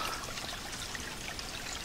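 Steady trickling water burbles continuously close by as it flows out of the ground, a soft bubbling flow with no voices.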